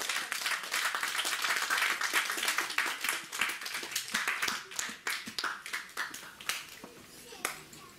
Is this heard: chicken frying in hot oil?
no